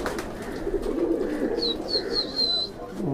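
A Madrasi pigeon hen coos low and close with soft repeated throaty notes, while faint high chirps from other birds sound in the background.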